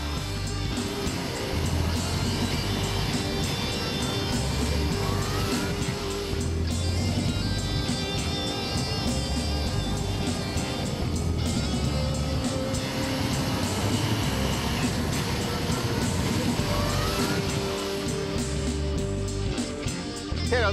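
A Yamaha 600cc four-cylinder motorcycle is ridden on city roads in North Toronto. A steady, dense roar of engine and wind noise continues unbroken for the whole stretch.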